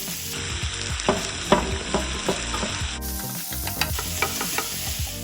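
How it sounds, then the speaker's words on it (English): Wagyu ground beef frying in a hot pan gives a loud, steady sizzle, while a whisk breaks the meat apart with repeated scraping and tapping strokes against the metal. "a whisk is the best tool for breaking up ground meat when you're cooking it in the pan"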